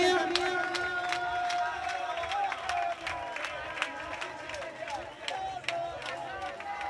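A club crowd at Pacha in Gradisca cheers and claps for a DJ, with scattered claps and shouts over a steady background of music and crowd noise.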